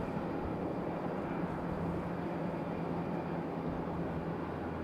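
A321 airliner just in from Atlanta at Raleigh-Durham airport, a steady broadband roar of jet engines holding level and fairly distant throughout, with no voices.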